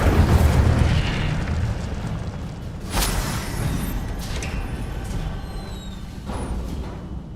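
Incendio fire spell cast in the game Hogwarts Legacy, loud whooshing fiery bursts over a dense rumbling game soundscape, with a sharp blast near the middle and another flare toward the end.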